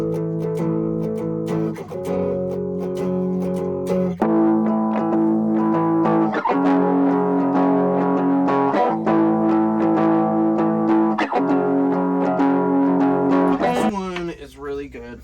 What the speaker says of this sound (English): I want to add another electric guitar playing the syncopated part.